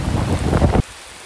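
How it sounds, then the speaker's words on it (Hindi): A dense wash of rain hisses loudly for under a second, then cuts off abruptly to near silence. "अब हम लोग का बारिश स्टार्ट हो चुका था"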